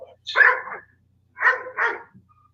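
Pet dogs let out three loud barks close by, one alone and then a quick pair after a pause, with quiet between them.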